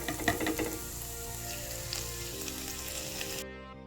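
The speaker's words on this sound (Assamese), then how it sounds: "এতিয়া মই এখন কেৰাহীত মই অলপমান দেশী ঘিউ দিছো আৰু গাজৰখিনি দি দিম।" Grated carrots fry in a little desi ghee in a kadai for carrot halwa, a steady close sizzle and crackle with a few stirring clatters at the start, continuous and fairly loud with no talk.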